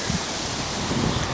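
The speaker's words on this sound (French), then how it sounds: "j'espère qu'on n'entendra pas trop le vent" Wind gusts across a father's vegetable garden in the Drôme in March, a constant loud rushing roar buffeting the microphone with no talk.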